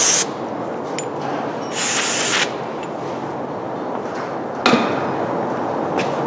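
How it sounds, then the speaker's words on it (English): Brake cleaner sprays onto a Jeep 4.7 cylinder head in short hissing bursts, one at the start, a longer blast around the middle and another near the end, loud and close against a steady background. "Clean it with a little brake clean."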